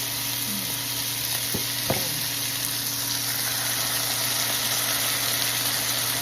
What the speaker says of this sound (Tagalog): Fry muna natin. Ilagay na natin yung sauce guys.